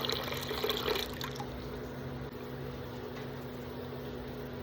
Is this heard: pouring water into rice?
yes